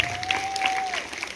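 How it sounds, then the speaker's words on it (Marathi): Hypnotism stage show audience at Malwadi clapping, a short burst of dense applause with a sustained whistle-like tone running through it. "जोराने टाळ्या वाजून त्याचं स्वागत करावं"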